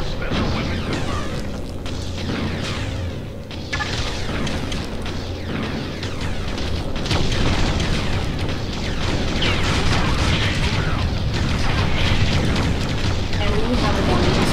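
An enemy power battery blows up in the real-time strategy game Ground Control, a long rumbling blast and roaring debris that swells and stays loud under a voice talking.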